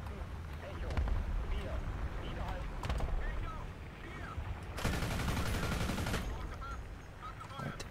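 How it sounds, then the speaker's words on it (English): Artillery fire in a Panzer IV G tank video game, with several booming blasts and a sustained burst of gunfire over continuous background game noise. "Meanwhile, we'll drop some random artillery."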